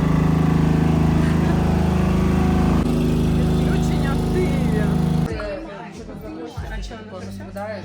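A power generator drones loudly and steadily with a low hum, then the noise drops and changes as the scene shifts, with a voice and street sounds heard.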